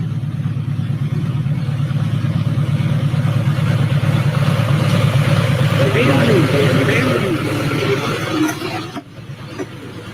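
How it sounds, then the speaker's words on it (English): Old diesel trucks compete in the Saturday night diesel truck class at a dirt track in Manilla, Iowa. Their engines form a continuous, loud, low rumbling drone throughout, with a voice talking over the noise. "This is the diesel truck class in Manilla, Iowa, Saturday night"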